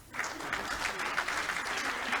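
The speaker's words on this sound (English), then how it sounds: "you clap properly" Audience at an NGO panel event clapping briefly, a soft, fairly distant patter of many hands, steady and short.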